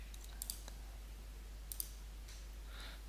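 A computer mouse clicks a few times, sharp and faint, in quick pairs against a steady low hum.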